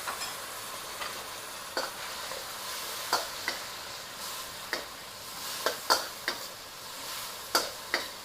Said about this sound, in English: we're going to give our sauce a quick stir, incorporate it around the edge